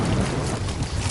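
Strong wind buffets the microphone at a reservoir during fly fishing, a brief, loud, broadband roar with no voice.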